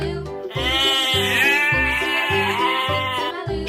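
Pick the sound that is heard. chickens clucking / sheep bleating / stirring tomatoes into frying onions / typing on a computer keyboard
sheep bleating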